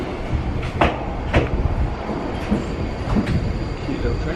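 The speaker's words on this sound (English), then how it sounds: "We're now waiting for the train to come in. It's just coming." A train pulls into a small station near Matsuyama, Japan, with a steady rumble of wheels on track and a few sharp clacks and squeals, fairly close and loud, with voices faintly in the background.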